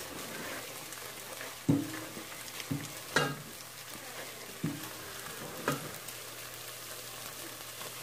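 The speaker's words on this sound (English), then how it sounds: "So just fry these tomatoes a little bit." Tomatoes fry in a pan with a soft, steady sizzle, broken by several sharp clinks and scrapes of stirring at irregular intervals.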